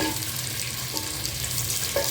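A large onion frying in a pan, producing a brief steady sizzle with faint stirring scrapes, heard close and on its own.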